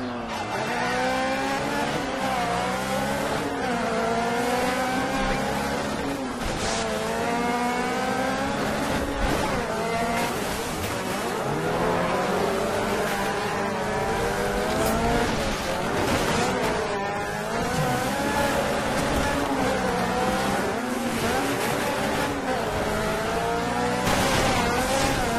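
Race cars roar and rev continuously through a Dirt 3 rally race, engines climbing and shifting with tire squeal and skids, loud and dense throughout with no pauses.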